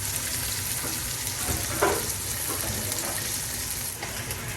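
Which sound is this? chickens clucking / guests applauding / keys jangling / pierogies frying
pierogies frying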